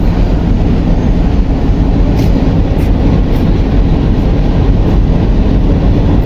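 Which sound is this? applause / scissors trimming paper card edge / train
train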